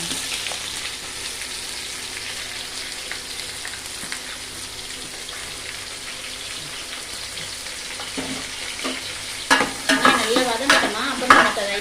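Masala with cinnamon and cloves frying in a pan, a steady soft sizzle throughout, then louder scraping and stirring clatter toward the end, close and without talking.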